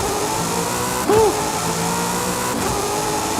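An Italian exotic car in Forza Horizon 5 revs its engine, with one brief rising-and-falling rev swelling out of a steady engine drone, close and moderately loud, with no talking.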